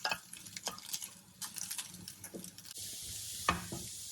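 Orange peel stir-fried in hot oil gives a soft sizzle broken by light scraping and stirring strokes, close and fairly quiet, with no voices.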